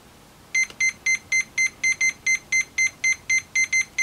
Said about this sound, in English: I'm going to wind it back up again so it starts beeping